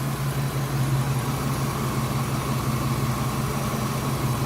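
A charged-up Ford Mustang's engine runs at a steady idle, a continuous low hum with a constant drone holding unchanged throughout, close and alone with no voices.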